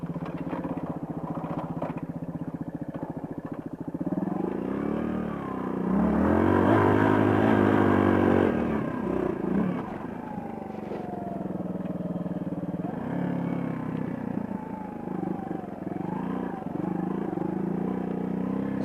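Suzuki DR200 motorcycle engine trail riding near West Point, Tennessee, a steady close single-cylinder drone with a louder surge of revving in the middle before easing back to cruising.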